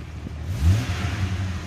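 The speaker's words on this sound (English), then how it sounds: "Let's go ahead and listen to the engine." A short burst of a 1998 Jeep Grand Cherokee TSi engine revving, a low rumbling roar that rises briefly and settles, heard up close with no talking.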